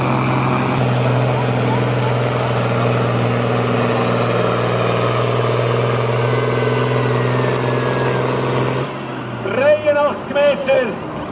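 A modified farm-stock tractor of about 550 horsepower, with an optimized injection pump and a larger turbocharger, drones loudly at a Swiss tractor pulling event, steady and close, before cutting off as a commentator talks over the crowd.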